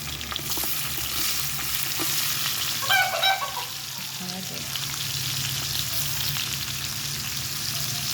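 Ricado aromatics fry in oil in a pan for Ilonggo-style chicken, giving a continuous, close, even sizzle with a few brief stirring scrapes partway through and a low background hum.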